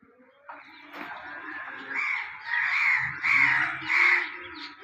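A crowd of crows caws steadily while being fed, the harsh calls building in loudness and overlapping in rising waves over about five seconds.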